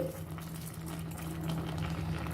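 Raw mango and ataku leaf dal simmers in a pot, giving a continuous low bubbling and gurgling at a moderate, even level.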